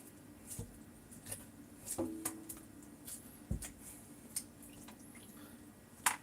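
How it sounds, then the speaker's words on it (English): Homemade butter, churned from heavy whipping cream, being rinsed in a bowl of water, giving soft wet squishes, sloshes and drips at a close, quiet level, with a few sharper splashes scattered through. "you got to kind of unwedge the butter off the walls and just kind of rinse it around"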